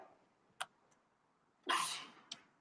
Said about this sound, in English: Oh, I might have to sneeze.